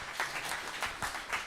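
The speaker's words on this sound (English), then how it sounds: "Round of applause for our rhythm section there" Audience applause at a live folk music show for the band's rhythm section, a short soft patter of clapping from a small crowd that swells in brief bursts, fairly faint and distant.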